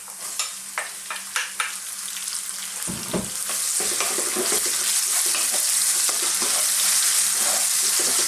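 Onions for a carrot and lentil curry frying over medium-high heat, with a few clinks of a spoon against the pan at first, then a steady sizzle that swells as they are stirred constantly.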